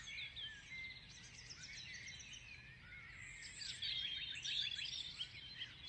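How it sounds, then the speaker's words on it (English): Birds sing outdoors in a landscape of woods, open grassland and water, several high chirping and trilling calls overlapping at a moderate distance over a quiet background, with no voices. "try and visualize and distinguish the birds that you hear"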